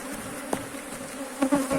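Honey bees buzzing at an open beehive while a queen bee is introduced, a close, continuous drone with a few louder passes from individual bees.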